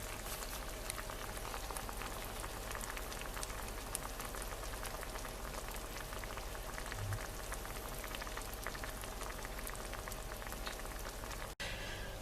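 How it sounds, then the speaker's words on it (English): Rhubarb syrup bubbles at a steady boil in a pot as it reduces, a soft, continuous crackle and pop like light rain, quiet and unbroken, with one brief knock near the end. "with syrup I'm going to now reduce, so I'm going to boil it"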